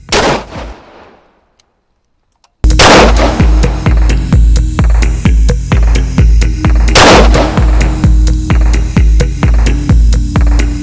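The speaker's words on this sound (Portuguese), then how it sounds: "Agora o segundo disparo, slug fioc, tá?" A 12-gauge shotgun fires slug rounds into a pig's skull during a forensic test, with a sharp blast that rings out, a pause, then a loud rhythmic pulsing clatter broken by a second blast.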